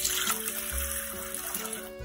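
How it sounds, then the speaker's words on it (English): Room temperature water pours steadily into the pan of a compact Cuisinart bread machine, a continuous close splashing flow lasting about two seconds with a faint tonal hum underneath. "First, we're going to add our 1 1/4 cups of room temperature water."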